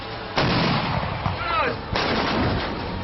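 Indian Army artillery booms out during Exercise Topchi at the Deolali field firing range near Nashik, with two loud, heavy blasts whose rumbling echoes roll on between them.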